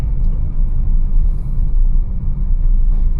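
Manual car accelerating in second gear on a busy road before a shift toward third, a steady close engine rumble with road noise and no talk.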